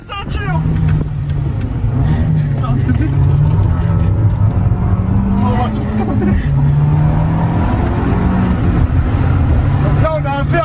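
An Abarth 595 Competizione pulls away on the road, heard from inside the cabin as a steady, loud engine drone that rises slightly and dips around one shift partway through.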